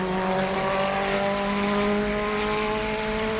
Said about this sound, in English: I couldn't hear you over the sound of the car